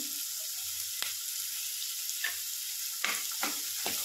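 Green chillies frying in a pan for a quick rice-flour vegetable dish, giving a steady close sizzle with a few sharp crackles and pops scattered through.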